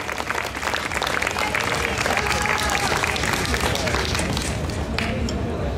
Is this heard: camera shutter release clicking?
no